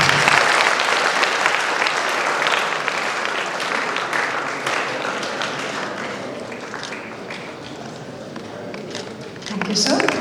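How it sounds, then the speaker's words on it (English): Audience applause at a conference workshop inauguration, steady dense clapping from a crowd that carries on for about ten seconds and fades slightly near the end. "Give a big round of applause"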